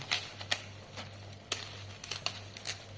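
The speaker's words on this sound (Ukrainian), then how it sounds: "обираємо усе це, усе листя від цієї жорсткої частини листочка" Kale leaves being stripped by hand from their tough stems, giving scattered sharp crackling tears and snaps, close and quiet, over a faint steady background hum.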